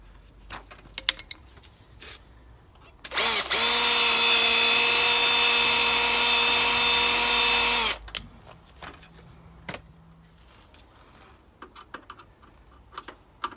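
Power drill tightening a bolt on a rear mudflap of a Fiat Ducato Elddis CV20 campervan, one loud steady motor whine lasting about five seconds, surrounded by scattered light clicks and taps.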